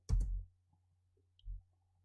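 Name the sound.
pressing Enter on a computer keyboard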